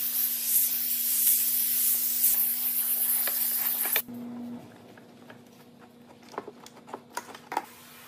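Household steam cleaner giving off a loud, steady hiss for about four seconds, then cutting off and leaving quieter scattered clicks and taps.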